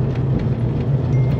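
A car engine idles with a steady, lumpy low rumble from a lopey cam, holding an even loping rhythm close by with no voices.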